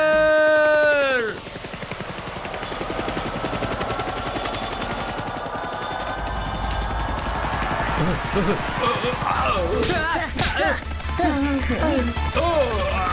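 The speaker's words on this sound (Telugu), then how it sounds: "హెలికాప్టర్." A helicopter's rotor chop and engine drone filling the scene, loud and continuous, joined by galloping, clattering action sounds and voices over the top.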